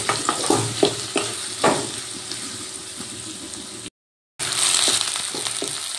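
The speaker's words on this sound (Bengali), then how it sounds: "এরপর ওই তেলে দিয়ে দিচ্ছি কেটে রাখা পেঁয়াজ। 2টো পেঁয়াজ কেটে দিয়ে দিলাম। এবার পেঁয়াজগুলো ভালো করে ভেজে নেব।" Two sliced onions sizzle in hot oil with black cumin, a steady close crackle broken by clattering stirs early on, briefly cut to silence before the frying resumes, with no talk.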